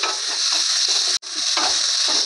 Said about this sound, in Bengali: আদা রসুন বাটাটাকে ভালো করে ভেজে নেব।